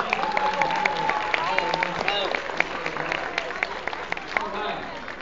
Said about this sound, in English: A round of applause for our teacher.